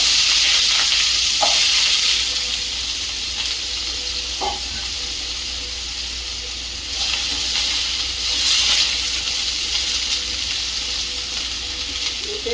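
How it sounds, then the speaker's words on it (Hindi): Three medium-sized potatoes, cut up, frying in hot oil for an aloo parwal curry: a steady, close sizzle and hiss that runs throughout, with a few faint stirring clinks and no talking. "3 मीडियम साइज का आलू काटे थे, उसको भी फ्राई कर लेते हैं"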